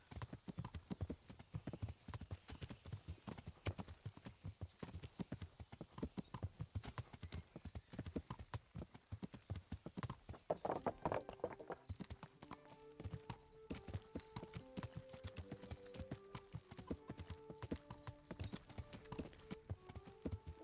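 Horse hooves clip-clop in a rapid, steady rhythm in the medieval video game Kingdom Come: Deliverance, slowing to sparser steps in the second half as soft tonal game music rises beneath.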